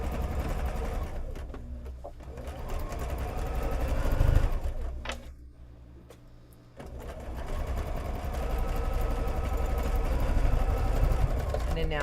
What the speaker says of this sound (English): And then now I'm going to sew straight across the bottom.